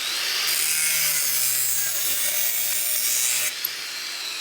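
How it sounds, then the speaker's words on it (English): A mild steel brake line fitting being cut by hand, a steady close rasping saw stroke that runs continuously for about four seconds with no talk. "I'm gonna cut the female end off here, also conveniently mild steel"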